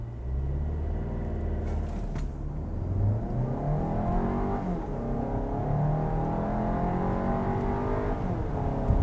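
A 2022 Volkswagen Tiguan R-Line with a 2-liter turbo four-cylinder accelerates hard from a launch, its engine drone rising steadily and continuously with no voices.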